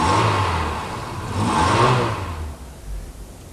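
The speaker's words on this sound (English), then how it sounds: "You may not be able to move the car, but you can start it, so try the usual test for blue smoke from the exhaust." Used car engine revving, an older mid-sized motor swelling up and back down twice before settling toward idle, loud and close with no talk.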